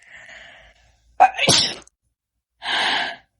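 A single loud sneeze with a sharp intake and burst, set between two short hissy exhalations; close and clear, with no talking.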